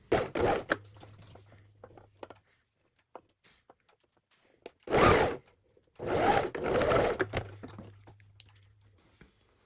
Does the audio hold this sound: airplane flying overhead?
no